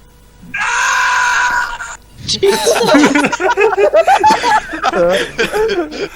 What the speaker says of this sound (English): That was the Sonic Werehog scream.